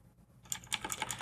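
Keys clatter in a quick burst of typing on a computer keyboard while code is entered, close and crisp, several rapid taps following a brief quiet moment.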